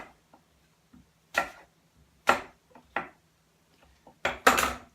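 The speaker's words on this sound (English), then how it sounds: "And then you'll just be slicing little slices into it" An apple being cut into small slices with a knife in a home kitchen as candied apples are made, giving a few sharp, separate chopping taps on a cutting board with quiet gaps between them.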